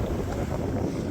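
Sailboat with a headsail out in about ten knots of wind, engine at tick over, on a grey day off the Welsh coast near Moelfre; a steady broadband rush of wind and water rolls on without break, with no distinct engine note standing out.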